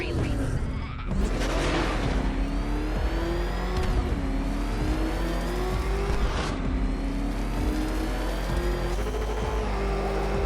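Batman's Batmobile engine revs and roars nonstop in Batman Arkham Knight, the pitch climbing and dropping through gear changes with tyre squeal, while a character speaks over the driving.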